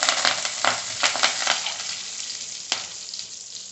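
Curry leaves fry in hot oil for Chettinad pepper chicken, giving a bright crackling sizzle with several sharp pops early on that settles into a quieter steady hiss.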